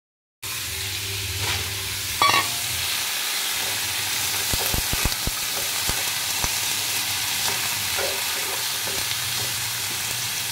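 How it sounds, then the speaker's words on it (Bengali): Cumin seeds tempering in hot oil: a sudden steady sizzle starts from silence and holds close and loud, with small pops and crackles scattered through it. "জিরা ফোড়ন"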